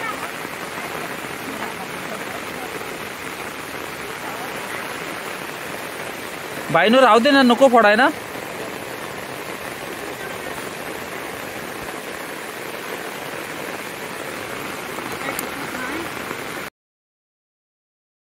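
Heavy monsoon rain falls steadily on a flooded Konkan paddy field during rice transplanting, a constant hiss throughout, with voices talking over it and a short burst of louder splashing midway.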